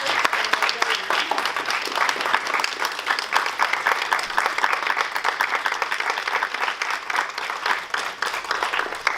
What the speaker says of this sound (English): all of them deserve another round of applause for their efforts